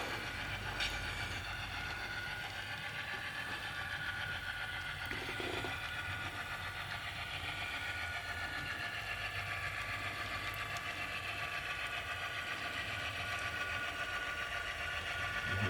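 A model train on the Baltimore & Lehigh layout runs with a faint, continuous mechanical hum and rolling rattle, heard from a distance beneath a steady room hiss.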